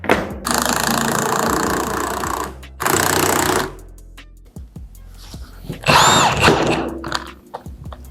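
A power tool hammers loudly on a strut bolt in a Harbor Freight spring compressor on a Chrysler 300C, running in two long sustained bursts, then short rattling impacts and metallic clatter up close.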